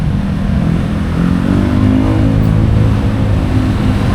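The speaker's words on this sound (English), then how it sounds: "Nice looking pink car going by." A pink car passes along a busy main road, its steady low engine rumble and tyre roar loud and close throughout, with no talking.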